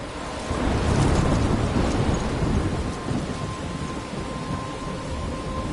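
Thunderstorm in the video game Life is Strange: a deep rolling rumble of thunder swells and fades over steady, hissing rainfall, with no voices.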